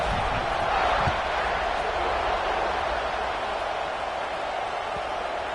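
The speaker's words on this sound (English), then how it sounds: "this crowd is buzzing after that last score" Steady stadium crowd buzzing at a UGA versus Vols football game just after a score and extra point, ahead of the kickoff; a dense, continuous roar filling the background with no distinct peaks.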